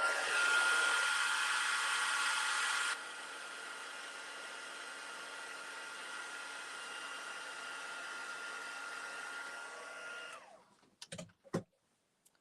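A heat tool blows steadily while setting embossing powder on a stamped card, loud at first and then slightly softer for several seconds before it cuts off, leaving a few brief handling clicks.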